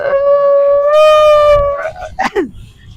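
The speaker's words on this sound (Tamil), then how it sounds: "நாய்" A dog gives a long, loud, steady howl lasting well over a second, followed by short yelps and some nearby voices.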